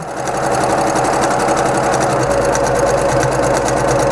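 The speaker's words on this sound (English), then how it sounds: "Turn my item around, and now I'm going to sew." A sewing machine runs steadily, stitching fabric for a small tote bag made from five-inch squares, a close, continuous rapid mechanical whir with no pauses or voices.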